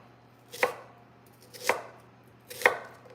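A knife slices thinly through a peeled onion on a cutting board, three crisp separate cuts about a second apart, close and clear against a faint steady hum.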